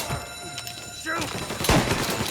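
Gunfire erupts in a Mafia Definitive Edition shootout, a rapid burst of shots layered with shouting voices, the firing dense and close over a busy, noisy scene.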